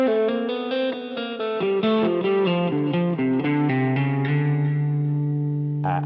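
Electric guitar legato lick with effects: a smooth run of hammered and pulled notes descending and sliding into a held root note, ending with a brief pick noise, played alone with reverb and echo.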